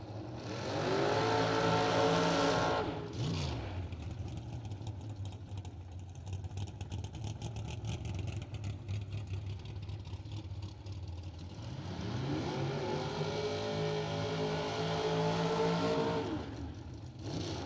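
Drag racing cars accelerate hard down the track at a spring drag event, one engine roaring through rising gear-by-gear pitch sweeps, fading to a distant rumble, then another car's loud revving climb returns.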